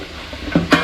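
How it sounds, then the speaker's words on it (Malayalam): Curry ingredients for a Kerala-style country chicken curry are stirred and sautéed in a pan, a soft sizzle topped by two quick scraping stirs near the end. "അപ്പോൾ ഇത് നന്നായിട്ടൊന്ന് ഗോൾഡൻ ബ്രൗൺ ആവുന്നതിന് വരെ നന്നായിട്ടൊന്ന് വഴറ്റിയെടുക്കാം"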